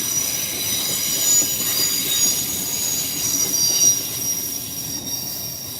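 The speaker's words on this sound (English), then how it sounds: "That's a Trans-Pennine Express service to Edinburgh in Scotland. That was so noisy, that really hurt my ears." Trans-Pennine Express train passing close by, loud sustained metallic wheel squeal ringing over a rumbling roll of carriages, continuous throughout with no voices.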